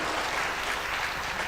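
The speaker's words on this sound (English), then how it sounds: "please give applause to our remarkable speakers" Audience applause for speakers at a university international conference, a dense, steady wash of many hands clapping throughout, fairly loud and uninterrupted.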